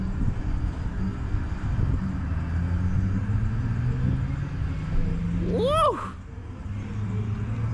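An MK4 Volkswagen Jetta VR6 wagon runs with a low, steady engine rumble, and a short swooping whine from a passing vehicle cuts across it near the end.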